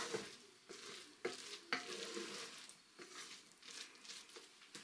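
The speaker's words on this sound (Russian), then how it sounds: "Перемешиваю." Soft scraping and gentle sizzling as a spoon stirs bulgur in a hot Redmond multicooker pot, several quiet strokes close by.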